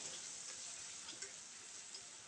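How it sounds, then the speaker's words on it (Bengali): Vegetables frying in a pan for a lemon vegetable soup: a steady, soft, high hiss of sizzling with a few faint pops and ticks, continuous and fairly quiet. "এখন আমরা একটু সবজিগুলো ভেজে নেব।"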